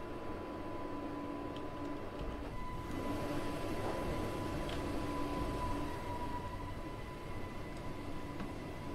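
Class 484 Island Line electric train accelerating at full power, heard from inside as a steady rumbling drone with a faint high motor whine, constant and moderate, without talk.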